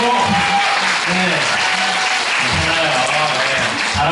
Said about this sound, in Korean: 박수 부탁드리고